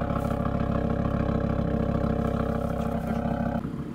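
A SAAB car engine idles while warming up, a steady close rumbling drone with a constant throb that shifts slightly lower near the end, no voices over it.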